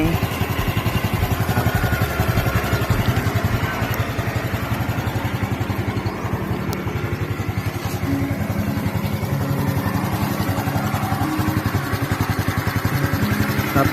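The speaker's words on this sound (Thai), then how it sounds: "ฟังเสียงเครื่องยนต์ครับว่ามีเสียงเคกไหม" A motorcycle engine idles right after an oil change, a close, loud, steady low putter with even rapid firing pulses running throughout.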